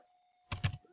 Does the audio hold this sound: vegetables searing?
no